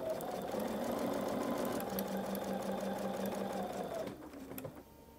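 Sewing machine stitching quilt fabric pieces along a 1/4 inch seam, a steady close motor whir with rapid needle clatter for about four seconds before it slows and stops.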